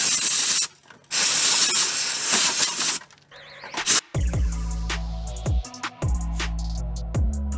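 Compressed air blasts rust and Bondo debris out of a Monte Carlo body in loud, long hissing bursts broken by short gaps, then a series of sharp ratcheting, mechanical clatters follows.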